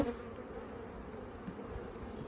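Honey bees hum steadily around an open hive during an inspection of a colony with a virgin queen, a dense, continuous buzz close by with no talking.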